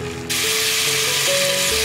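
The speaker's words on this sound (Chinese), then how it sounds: "牛肉下锅" Beef drops into a pan of hot oil over medium heat and bursts into a loud, steady sizzle after a brief quiet moment, close and continuous.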